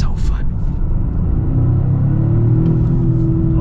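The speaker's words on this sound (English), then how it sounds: "it's got that peaky feel where it starts to like really come on with the turbos higher up in the RPM range" A turbocharged engine in a 2025 Toyota GR Corolla revs up, building from a low rumble to a steady, loud drone at higher RPM, heard from inside the car with a voice talking over it.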